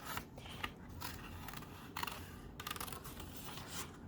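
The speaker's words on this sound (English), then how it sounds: "I'm going to try to turn the cardstock more than my scissors" Scissors fussy cut around a shape in cardstock, giving quiet, close snips and soft paper scratches in irregular bursts, with no talking.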